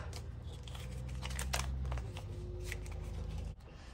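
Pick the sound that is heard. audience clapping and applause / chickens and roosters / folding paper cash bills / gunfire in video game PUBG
folding paper cash bills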